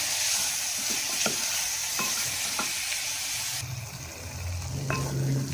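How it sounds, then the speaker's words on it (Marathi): A spoon stirs prawn and okra curry with onion and tomatoes in a pan, tapping the pan several times over a steady sizzling hiss, close and unaccompanied by talk. "आनी परत मिक्स करून घेवया"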